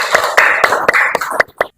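Short burst of classroom applause, a handful of sharp claps in a loose, uneven rhythm, fairly close.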